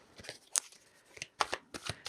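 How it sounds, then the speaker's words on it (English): Tarot cards being shuffled by hand, a quick series of papery riffles and soft slaps with small gaps between them, close and fairly quiet, with no talking. "just going to shuffle for a second"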